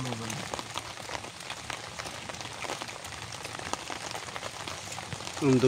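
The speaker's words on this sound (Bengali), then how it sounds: "আমি তো বৃষ্টি দিয়ে দিলাম" Rain falls steadily on a surface during a nighttime meal, a close, even patter of drops with a few sharper taps, ending in a brief louder rumble.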